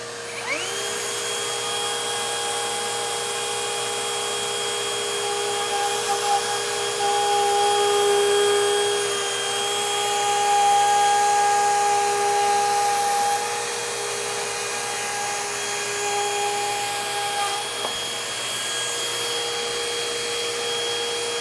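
A Metabo HPT cordless 2-1/4 HP router spins at maximum speed with dust collection running, a steady high-pitched whine holding level for about twenty seconds before a sharp pitch drop near the end.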